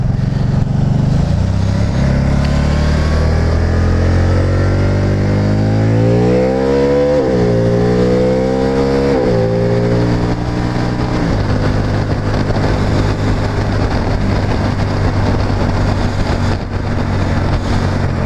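A Can-Am Spyder Roadster RT three-wheeler's engine revs loudly and up close, climbing through several rising sweeps before settling into a steady, throaty idle-like drone, with no talking.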